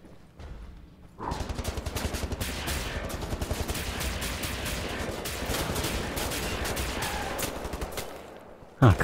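Rapid, sustained laser weapon gunfire in Wolfenstein: The New Order, dense rhythmic shots starting after a quiet second and running almost continuously to a sharp burst at the end.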